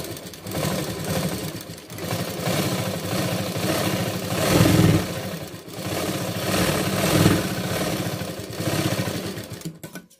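A sewing machine stitches a blouse lining in a continuous, close mechanical whir with a rapid needle rhythm, briefly slowing and surging in short runs over about ten seconds and stopping at the end.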